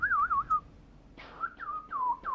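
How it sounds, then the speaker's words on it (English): A person attempts to whistle, producing wavering warbly tones, a short run first, then after a breathy gap several falling whistled notes, close and fairly loud with no other sound. "Shut up, I can't whistle."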